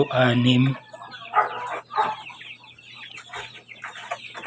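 Pet chickens cluck and chatter at feeding time, with a loud burst of calls at the start followed by scattered nearby clucks over outdoor background noise.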